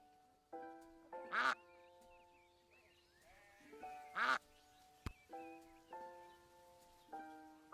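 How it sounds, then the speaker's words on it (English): Several ducks quack in short loud bursts with harmonic honks, two strong calls standing out among quieter, evenly spaced quacks, with no talking. "those are noises from different ducks."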